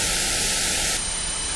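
Steady broadband white noise used for tinnitus sound therapy hisses evenly, then partway through shifts to a thinner, brighter hiss as the band around the tinnitus range is stripped out and a high tone enters.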